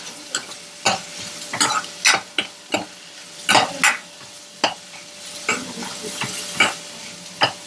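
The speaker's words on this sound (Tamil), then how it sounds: "பீன்ஸு, கேரட்டு இதெல்லாம் வந்து இடணும். இட்டுட்டு நல்லா மிக்ஸ் செய்யணும்." Onions, beans and carrots being stir-fried for a samosa filling, with a spatula scraping the pan in quick, uneven strokes over a low, steady sizzle, heard up close with no talking.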